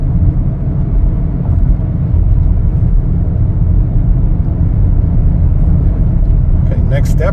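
A 2024 Chevrolet Equinox LT on the move, heard from inside as a loud, steady low rumble of road and engine noise, with a brief voice near the end.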